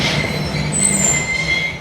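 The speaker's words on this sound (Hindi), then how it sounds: "बिरिया रोड रेलवे स्टेशन से ट्रेन हमारी रवाना हो रही है" Millat Express train departing Biriya Road railway station in Sindh, its wheels squealing in high sustained tones over a rumbling rolling roar, loud and close.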